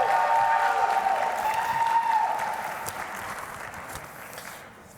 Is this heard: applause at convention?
yes